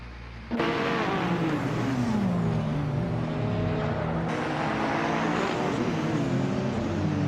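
Race cars in a racing game, among them a 2014 Toyota hybrid racer, with an engine cutting in loudly and holding a steady high drone, its pitch rising and dipping through gear changes and speed shifts.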